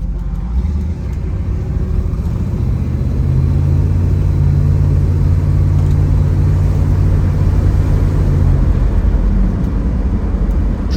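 A 1969 Chevrolet Camaro L65 with automatic transmission cruises down the road, a steady, loud low engine drone and road rumble heard from inside, with a smooth hum swelling in the middle.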